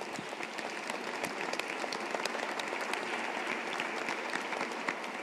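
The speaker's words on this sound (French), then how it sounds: "On peut l'applaudir." An audience at a photography award ceremony applauds steadily, a dense patter of many hands clapping at moderate distance, sustained throughout with no speech.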